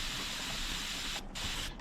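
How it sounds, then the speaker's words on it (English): Degreaser sprayed onto the chain of a Yamaha TW200 motorcycle raised on a block, a steady close hiss running throughout with two brief pauses, no talking. "I'm gonna go through here spraying the degreaser."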